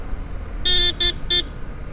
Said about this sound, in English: it is the typical Honda Activa horn